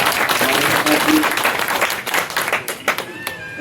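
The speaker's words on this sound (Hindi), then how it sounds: "एक बार जोरदार तालियों से प्रकाश जी" Loud audience applause at a Malad, Mumbai municipal election event, a dense burst of clapping that thins into scattered claps with some voices underneath.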